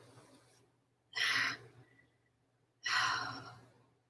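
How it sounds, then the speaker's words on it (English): A woman yawning during a home workout, two long breathy exhalations a couple of seconds apart, close and fairly soft, with no speech. "So sorry, I'm yawning."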